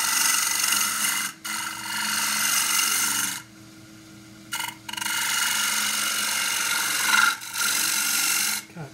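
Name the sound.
woodturning tool cutting a shoulder on forest sheoak box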